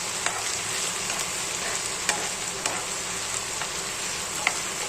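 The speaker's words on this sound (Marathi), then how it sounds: "मेन कांदा आहे ना ब्राऊन कलर होईपर्यंत भाजून द्यायचा आपल्याला" Onion fries in a pan until brown with a steady close sizzle, broken now and then by faint clicks from stirring, and nobody speaks.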